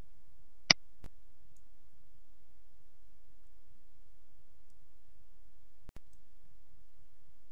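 A computer mouse gives a single sharp click early on, followed by a second fainter click much later, against near silence.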